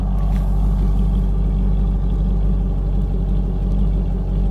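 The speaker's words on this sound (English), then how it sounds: "Exhaust, thought we'd listen to it, sounds really good." A 1999 custom C5 Corvette idles with a steady, deep exhaust rumble heard up close. The tone holds constant throughout, with no revving and no talking.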